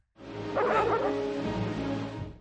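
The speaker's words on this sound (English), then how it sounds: "Hearing the sounds of those dogs will put some fear into him." A dog gives a drawn-out, whining bark-howl up close, a single sustained vocal cry rather than sharp repeated barks.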